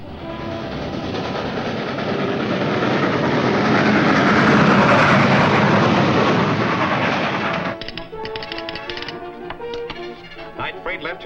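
A night freight train rushes past on rails in an old serial, a loud roaring wash that swells and then gives way to rhythmic clattering of wheels over track joints.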